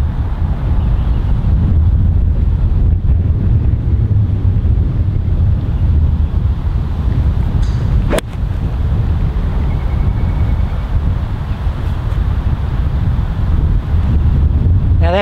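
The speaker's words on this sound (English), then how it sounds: "It's really windy here today." Strong, steady wind roars across an open golf course, buffeting the microphone in a continuous low rumble with a brief sharp knock around the middle.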